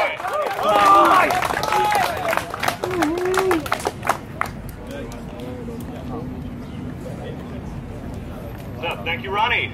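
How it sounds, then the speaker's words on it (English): A rally crowd claps and cheers for speaker Ronny Cameron, a dense burst of applause swelling at first then thinning into scattered claps, with someone talking over it throughout. "Big round of applause for Ronny Cameron"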